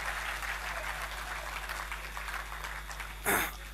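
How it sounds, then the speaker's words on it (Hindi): Audience at an open-air Hindi poetry recital (kavi sammelan) on a campus, giving a faint, distant patter of clapping under a steady low hum, with one brief louder knock near the end. "थोड़ी तालियां मेरे लिए भी बजा दीजिए"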